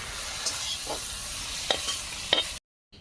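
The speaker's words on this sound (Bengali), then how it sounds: "তেল গরম হয়ে গেছে চিংড়ি মাছ দিয়ে দেবো" Prawns frying in hot oil and being stirred, a close steady sizzle with a few scraping stirs of the spatula before it cuts off.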